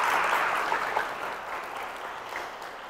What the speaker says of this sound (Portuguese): Então dá mais uma salva de palmas para Jesus.